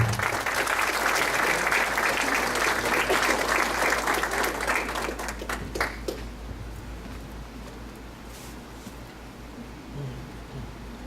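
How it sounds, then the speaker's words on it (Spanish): Loud audience applause welcomes a speaker at a legal lecture on pretrial detention. The dense clapping holds for about five seconds, then thins to scattered claps and fades into room noise. "Lo recibimos con unos fuertes aplausos"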